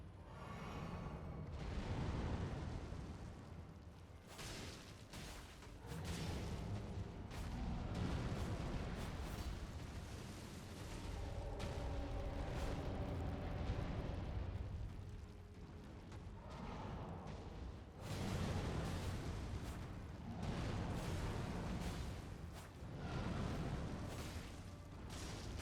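Fire Giant attacks in the Elden Ring video game, a series of heavy, rumbling booms and blasts repeating over about twenty-five seconds, fairly faint overall with no talking.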